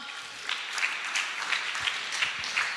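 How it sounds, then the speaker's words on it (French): A church congregation applauding during a Sunday service, a short burst of fairly steady clapping from a crowd that stays even throughout, moderately loud. "On acclame. On acclame."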